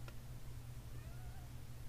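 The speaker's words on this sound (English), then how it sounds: "That's the cat." A cat meows nearby in a quiet indoor room, giving a single drawn-out meow with a soft rising and falling pitch.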